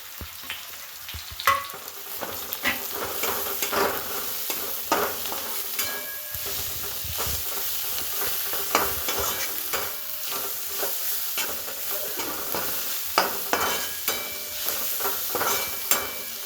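Wrung-out amaranth greens frying with turmeric and salt in a pan, a steady close sizzle with a spoon scraping and stirring throughout, fairly loud and continuous with no speech.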